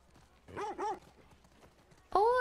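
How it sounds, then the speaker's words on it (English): Dog in The Last of Us Part 2 video game, giving two short whining or yelping vocal sounds close by, followed after a pause by a louder sharp bark or yelp at the end. "Oh, it's a dog."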